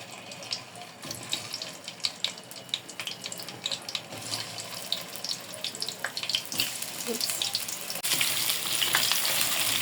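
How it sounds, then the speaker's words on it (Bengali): Potatoes frying in mustard oil in a pan, a close crackling sizzle with scattered pops and stirring scrapes, growing denser toward the end, no talking. "আলুগুলো একটু ভালো করে ভাজে নেব"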